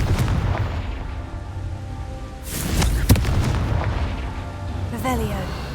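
A Confringo spell explodes in the video game Hogwarts Legacy, a booming blast with a sharp crack near the middle that rumbles amid game ambience, while a person talks over it.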